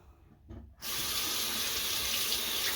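Tap water runs into a sink to rinse soap off a makeup brush, starting abruptly after a brief quieter moment and then flowing as a steady, close, loud rush.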